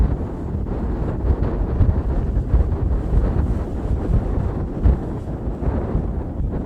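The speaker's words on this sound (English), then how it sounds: "And the wind has shifted now out of the west" Wind buffets the microphone at an outdoor baseball game, a steady low rumble with gusty surges throughout and no voices.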